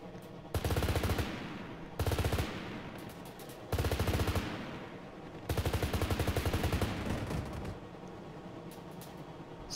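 Enemy automatic gunfire in ARMA 3 rattles in several sustained bursts, dense and steady, separated by brief gaps, with a constant loud background of battlefield noise and engine rumble underneath.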